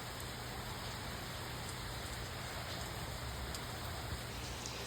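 Steady rain falls outside a porch, a soft, even hiss of drops on surfaces that continues without a break, fairly quiet and with no voices.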